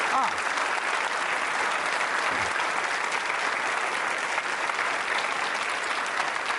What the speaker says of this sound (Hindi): तालियां जोरों से बजाइए अपने लिए और हमारे दर्शकों के लिए।